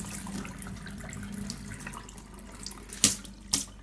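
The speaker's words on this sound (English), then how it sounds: "Shaking out the water." Water swishes and sloshes as it is shaken out of a glass sprouting jar of broccoli sprouts, a steady watery rush with two sharper splashing bursts near the end.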